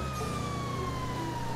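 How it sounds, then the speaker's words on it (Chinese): A police siren on the Impaler SZ Cruiser patrol car in GTA Online sounds as a steady, unbroken electronic tone over a low engine hum, moderately loud and continuous. "揿 L 三就系响警鸣啦"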